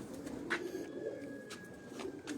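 Pigeons cooing in a fancier's loft in Dharampura, Lahore, a soft, steady low coo running throughout with a few brief higher chirps and faint background noise, no talking.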